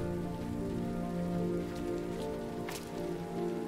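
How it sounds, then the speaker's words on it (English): Rain pours in the video game Road 96 with a continuous hiss of drops over a low droning musical bed, and one brief sharper splash midway. "Let's wait out the rain in the booth."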